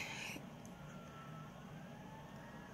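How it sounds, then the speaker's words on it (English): A distant ambulance siren wails faintly under steady traffic rumble, rising and falling slowly with no voices nearby. "Siren, ambulance, sorry."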